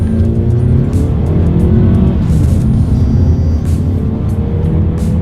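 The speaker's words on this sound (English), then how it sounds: "we are going to do a quick little acceleration here, and let's see how quickly we can get the new 2019 Mazda 3 up to speed" A 2019 Mazda 3 accelerates hard in sport mode, its engine loud, close and continuous, climbing in pitch through the gears from the cabin.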